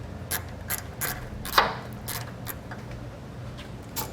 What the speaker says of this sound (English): we'll go ahead and tighten it down using the Phillips screwdriver and a 3/8 deep well socket